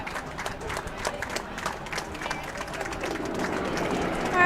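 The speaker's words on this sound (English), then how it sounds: "Applause for the teams that are just coming off the sheet 2 from the B event final." Spectators at a curling bonspiel applaud the teams leaving the sheet after the B event final, a steady patter of many hands echoing in an arena and swelling slightly toward the end.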